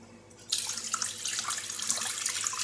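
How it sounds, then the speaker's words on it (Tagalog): Tap water pours into a pot of cooking carne (laham), starting abruptly and running as a steady, close splashing stream with no speech. "Lagyan natin ng tubig."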